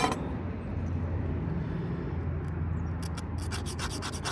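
A metal file rasps against small stainless steel screws during an MRI power supply teardown, giving a steady close scraping texture that ends in a run of sharp, rapid strokes, with no voices.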